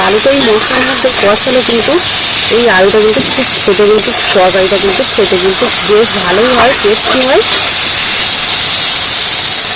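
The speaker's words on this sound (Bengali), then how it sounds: "আর আলুটা এইভাবে কষা আর একটু ভেজে নিয়েছি" Potato curry sautéing and frying in a pan makes a continuous bright sizzle and hiss, heard close and loud beneath a person talking throughout.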